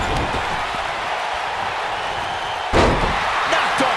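A heavy impact as a wrestler is slammed to the mat during a No DQ tag team match, a sudden loud thud partway through over a constant roaring arena crowd.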